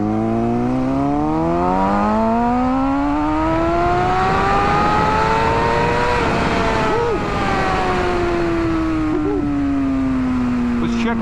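A 2007 Kawasaki ZX6R motorcycle exhaust revs loudly and continuously, pitch climbing then holding and easing off through about eleven seconds of close, steady engine roar with a brief dip near the middle.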